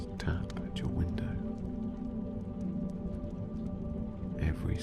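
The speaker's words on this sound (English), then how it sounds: "hearing the raindrops tap at your window" Rain with raindrops tapping at a window, a steady soft patter under a low rumble with scattered sharper drops, quiet and continuous throughout.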